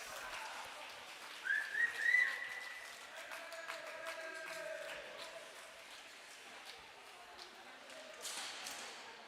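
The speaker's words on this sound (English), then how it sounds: "but the whistle goes" A referee's whistle at an under-15 tier 2 ice hockey game in an arena: a few short shrill blasts over crowd noise and rink ambience, with a voice talking through the rest.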